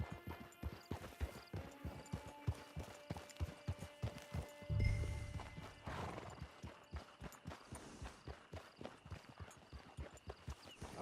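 Horse hooves in the Red Dead Redemption 2 video game: a steady, close clip-clop rhythm throughout, with a loud whinny and snort near the middle.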